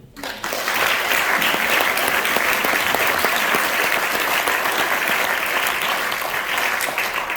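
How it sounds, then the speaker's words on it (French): An audience breaks into sustained, dense applause that starts abruptly and continues steadily at full strength. "on peut l'applaudir"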